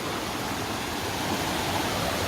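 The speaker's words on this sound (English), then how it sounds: "Came across this cool waterfall." Steady rushing water of a waterfall in Shenandoah National Park, a dense even roar with no other sounds on top.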